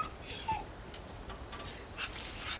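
A dog in the Resident Evil 4 remake video game whimpers in faint, high, thin squeals, over a soft background hiss.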